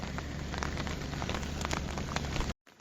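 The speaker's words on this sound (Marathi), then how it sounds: "भरपूर पाऊस पडतो आहे" Heavy monsoon rain pours steadily over flooded paddy fields in Konkan, a dense, loud, unbroken hiss of drops that cuts off abruptly near the end.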